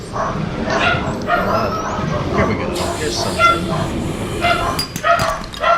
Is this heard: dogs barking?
yes